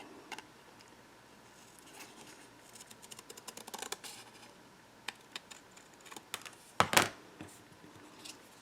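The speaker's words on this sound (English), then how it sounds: "and then I'll just cut that out with my scissors." Small scissors snip a die-cut paper tag piece out of cardstock, a run of quick light clicks and cuts building to a louder crisp snip near the end, close to the mic.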